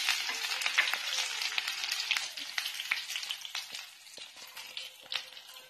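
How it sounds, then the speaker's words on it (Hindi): Cumin, garlic and ginger paste fry in hot oil in a pan, giving a close, steady sizzle with crackles and spits throughout that fades slightly toward the end, with no talking. "पहले हम एक पैन में ऑयल गर्म करेंगे और उसमें थोड़ा सा जीरा डालेंगे, फिर लहसुन और अदरक का पेस्ट डालेंगे"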